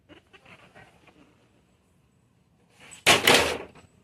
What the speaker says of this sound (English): Thumbs just knocked some toys over.